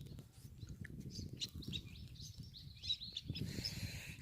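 Several birds chirp and call in short, high bursts over a shrimp pond, above a low, steady background rumble, fairly faint and spread across the scene.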